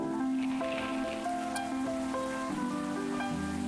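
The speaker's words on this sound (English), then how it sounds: "Another rainy night." Rain patters softly through a night scene in the video game Coffee Talk, a gentle continuous wash beneath a slow, mellow melody with shifting sustained notes.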